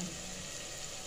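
Steady, faint stream of water poured into a cooking pan of spiced radish pods and potatoes, an even continuous hiss with no talking.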